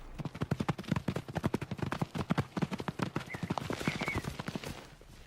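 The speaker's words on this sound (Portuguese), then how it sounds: "Um rouba uma égua e seu potro do bando, mas rapidamente recua quando o garanhão do bando ataca." Wild horses fighting in a mountain band as a stallion attacks a rival: a rapid, irregular run of loud thudding hoof strikes and scuffles, close and continuous, with a brief high whinny-like cry near the end.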